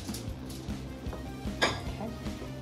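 A wooden spoon mixes soft ground meat in a bowl for a rat-shaped meatloaf, giving close, faint rhythmic knocks and scrapes against the bowl.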